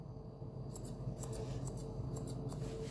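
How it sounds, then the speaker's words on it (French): Grooming scissors snip through a poodle's fur for a puppy show cut, with quick paired clicks repeating close up against a low background hum. "n'hésitez pas à changer de ciseaux"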